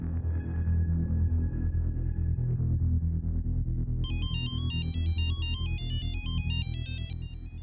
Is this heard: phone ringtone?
yes